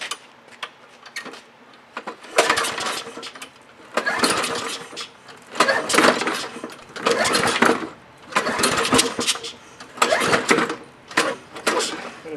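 A Craftsman lawn mower with a suspected broken flywheel key is pull-started again and again, each roughly one-second burst of engine clatter rising and stopping, close and fairly loud.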